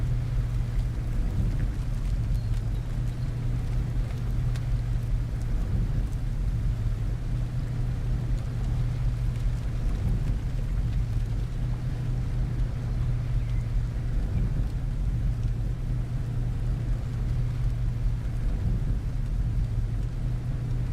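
Steady rain falls in the video game Lumberjack's Dynasty, a continuous even hiss with a low rumbling hum beneath it, unbroken and with no voices.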